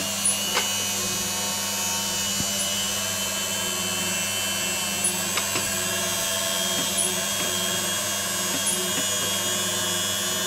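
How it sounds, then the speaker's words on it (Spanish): A belt-driven meat slicer runs while slicing chorizo, giving a steady mechanical hum with faint periodic ticks from the rotating blade, close and continuous. "graba el chorizo como se corta"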